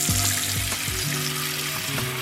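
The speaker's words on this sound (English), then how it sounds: "I'm gonna fill up this pot with agua" Water running from a kitchen tap into a cooking pot, a steady loud rushing stream close by with a few faint clinks of metal.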